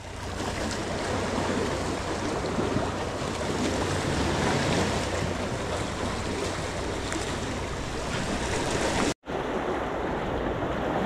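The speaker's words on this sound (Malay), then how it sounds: "Air bergelombang air." Waves and rough water slap around a fishing boat at sea, a loud, continuous wash mixed with wind buffeting, broken by a brief dropout near the end, with no speech.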